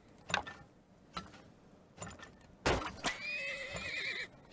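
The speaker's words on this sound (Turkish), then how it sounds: "Kanka beygir." Horse neighing in the oil-drilling simulation game Turmoil, a loud shrill whinny after a few soft hoof clops, clear and close with no talk.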